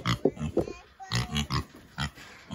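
Mini pigs grunt close by in a rapid, irregular series of short snorting oinks with brief pauses between bursts.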